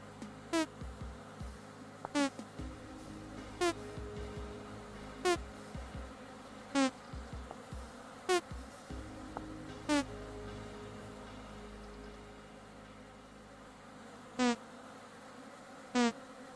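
Bees in the Vintage Story survival game buzz around a beeswax hive frame, heard as soft, regular short buzzing passes repeating every second or so over a quiet background.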